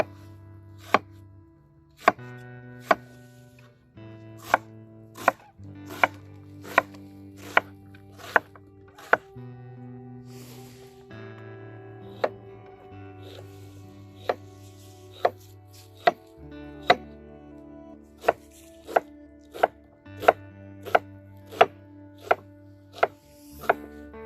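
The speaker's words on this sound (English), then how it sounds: "Let's start it off by giving it a chop." A knife chops a big sweet onion on a board, with sharp, regular thuds ringing out one after another in steady rhythm, close and distinct over quiet background music, and no voices.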